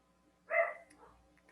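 A single loud bark from a female dog with a disability, close by and alone, followed by faint lower residual sounds.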